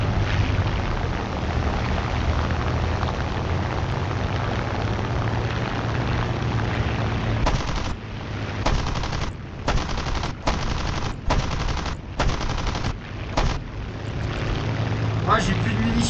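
Rapid bursts of machine gun fire from the War Thunder aircraft game, a dense loud rattle through the first half, then several short choppy bursts broken by gaps, over constant engine drone with someone talking.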